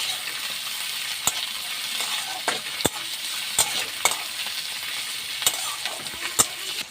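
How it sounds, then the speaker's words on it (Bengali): Garlic, green chilies and onion fry in a pan with a continuous soft sizzle, while a utensil scrapes and taps against the pan at irregular intervals, close and clear with no voices. "এবার এগুলোকে আমি একটু ভালো করে ভেজে নেবো।"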